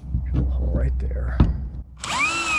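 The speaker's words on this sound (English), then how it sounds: "I'll be able to tighten down that bolt into the spring nut" An impact driver with a 9/16 socket runs briefly, tightening a bolt into a spring nut above a suspended ceiling purlin. A short burst of whirring comes near the end after handling noises.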